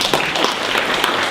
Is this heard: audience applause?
yes